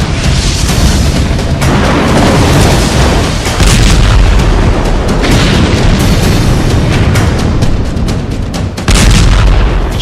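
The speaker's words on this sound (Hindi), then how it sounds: "एक और बम उन पर गिर पड़ा।" Loud, dense bombardment during the war in Ukraine: continuous heavy booming blasts, one rumbling over the next, with sharper cracks standing out near the middle and close to the end, and no speech.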